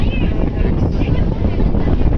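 Strong wind buffets a ship rolling on a rough Bay of Bengal, a loud continuous low roar of gusts and water with no break, close and heavy throughout.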